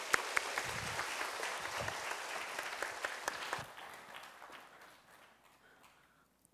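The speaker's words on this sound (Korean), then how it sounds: "여러분 큰 박수로 격려해 주시길 바랍니다" Applause from a church congregation during a Sunday service, dense clapping that holds steady for about three and a half seconds and then thins and fades out.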